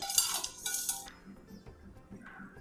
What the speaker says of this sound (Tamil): அடுப்பை அடைச்சிட்டு இதை ஒரு தட்டில் எடுத்துன்னு விட்றேன்